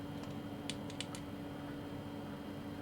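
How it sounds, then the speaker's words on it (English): Small plastic button on a hidden spy pen camera clicked twice, a few short crisp clicks close up over a steady electrical hum. "So I'm going to click this twice."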